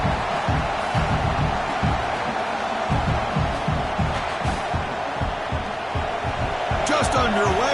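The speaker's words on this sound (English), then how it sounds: "this home crowd is fired up and ready to make a difference today" Home stadium crowd roaring in EA College Football 26 during a Miami Hurricanes at Texas A&M Aggies playoff game, a loud continuous crowd din with rhythmic thumping chants, heard under a commentator's talk.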